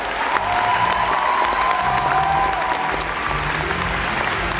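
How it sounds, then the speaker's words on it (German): An audience at the opening of a Starlight Express skate battle open day applauds the judges, a steady, dense round of clapping from a large crowd with faint cheering, continuous for several seconds. "Ein Applaus für unsere Officials."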